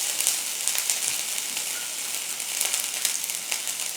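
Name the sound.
ginger garlic paste sautéing in olive oil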